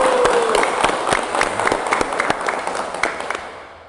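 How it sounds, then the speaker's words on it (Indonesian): Students at a vocational high school clapping together, a fairly loud burst of many hands with distinct individual claps cracking through, continuous for several seconds before tapering off. "Tepuk tangan buat kalian."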